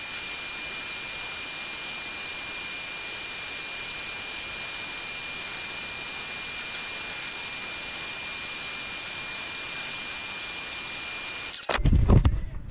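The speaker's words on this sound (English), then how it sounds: "just got done vacuuming" A shop vacuum roars steadily while cleaning out the engine valley of a 6.0 diesel, a loud constant whine that cuts off abruptly near the end, followed by a short clatter.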